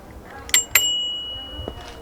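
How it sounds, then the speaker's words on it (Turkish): A bicycle bell fitted in place of the horn on a Motolux F7 scooter gives two quick bright metallic dings close together, each with a lingering ring, over faint background noise, then a softer tap. "Korna yerine bisiklet zili."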